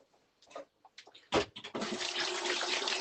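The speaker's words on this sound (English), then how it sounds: "Wash the hands." A kitchen tap is turned on for handwashing while cooking spaghetti bolognese; a few soft clinks and a splash come first, then the flow settles into a close, continuous stream.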